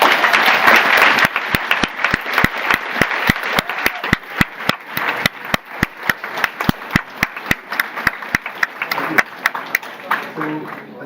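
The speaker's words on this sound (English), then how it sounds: "help me give a big applause to the organizers." A conference audience at the 44th EPSA Annual Congress applauds the organizers: dense, close clapping that starts full and thins into sparser, distinct claps toward the end.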